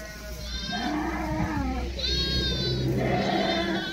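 Sheep bleating up close in an open rural area, several wavering calls overlapping one another over a steady background, with someone talking quietly beneath them.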